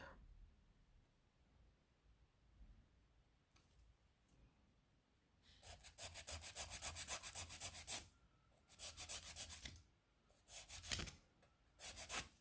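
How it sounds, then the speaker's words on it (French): A nail file rubs at a bevel across a fingernail in close, scratchy bursts, a short stroke first and then several longer runs of rapid gritty rasping, quiet otherwise. "il faut tout simplement mettre sa lime en biseauté et limer"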